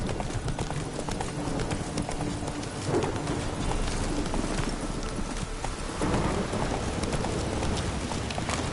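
Roach, a horse in a video game, gallops in a steady, driving clip-clop of hooves across the whole stretch, loud and close over a dense layer of ambient game noise.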